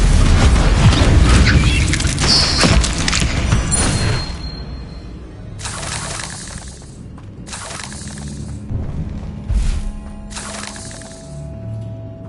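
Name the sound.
Bombarda exploding spell blast from video game Hogwarts Legacy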